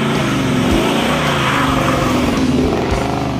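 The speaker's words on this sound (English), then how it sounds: "really good sound going down the road thanks to the MagnaFlow stainless dual exhaust" A 1969 Chevelle SS496 with a big-block V8 rumbles steadily down the road through a MagnaFlow stainless dual exhaust, a loud, close, deep drone with slight rises in pitch as it cruises.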